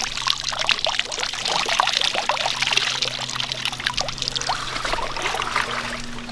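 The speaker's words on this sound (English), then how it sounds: "Hold your hand over it and drain the water out." Water pours and trickles out of a jar of creek-caught crawdads in a continuous splashing stream, close by, lasting several seconds with no talking.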